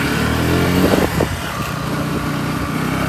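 A motorcycle engine, just repaired at a mechanic's workshop after a breakdown, runs with a steady, loud, buzzing drone throughout, briefly swelling as if lightly revved.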